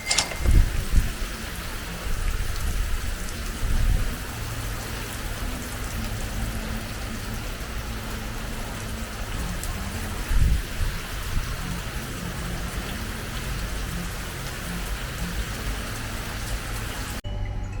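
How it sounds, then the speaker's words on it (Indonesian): A sudden rain shower in Bali pours down in a steady, close wash of drops on surfaces, with a couple of heavier splashes and a low rumble early on, continuing evenly with no talking. "Tiba-tiba hujan, jadi sok ide melipir ke Masats."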